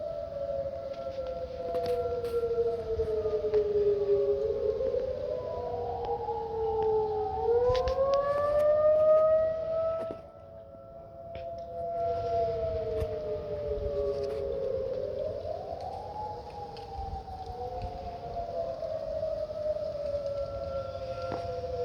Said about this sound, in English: So, yeah, the sirens are going off right now.